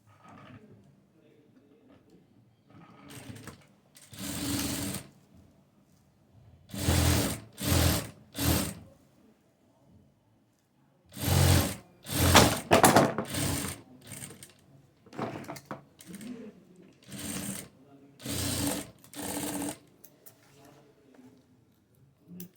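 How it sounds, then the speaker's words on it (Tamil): Sewing machine stitching a hook and eyelet strip in several bursts of rapid mechanical whirring, separated by pauses, loud and close. "ஸ்டிச் பண்ணிவிட்டு 1/4 இன்ச்சில் இன்னொரு ஸ்டிச்"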